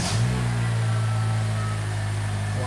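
A car engine running up on a jacked-up car, a steady low mechanical hum with a brief rising burst at the start, then an even drone, close and alone.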